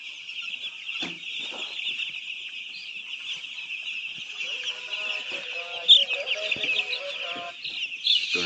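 A large flock of poultry chicks on a chick farm chirps constantly, a dense high-pitched chorus with a few louder peeps standing out nearby.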